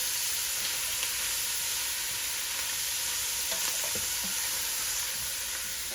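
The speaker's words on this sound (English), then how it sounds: "So we'll let those onions cook just for a minute." Onions and green peppers frying in a pan, giving a steady, loud, close sizzle with a few faint clicks of stirring.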